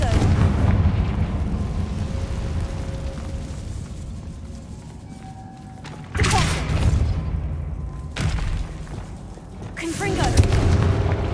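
Spell blasts from the Confringo curse in a Harry Potter video game, with loud booming bursts at about six and eight seconds and another near eleven, over a dense rumbling game background with some talk.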